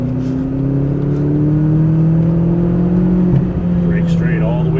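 McLaren 570S Coupe pulling out of a corner on track, its engine note climbing smoothly and loudly from inside the car, with a brief dip before the pitch keeps rising.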